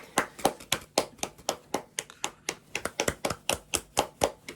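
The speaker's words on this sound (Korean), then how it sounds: "박수." A few people clap together at a small film screening event, about twenty sharp handclaps in a steady, slightly uneven rhythm, close and clear, with no talking.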